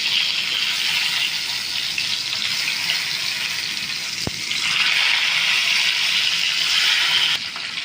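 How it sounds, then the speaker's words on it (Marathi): Stuffed tomatoes fry in oil with a steady bright hiss and sizzle, loud and close, with one sharp click partway through and no talk. "आता भरलेले टोमॅटो तेलात ठेवावे व्यवस्थित"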